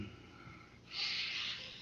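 A man imitates sniffing a gun, giving one sharp, loud nasal inhale that follows a softer breathy stretch.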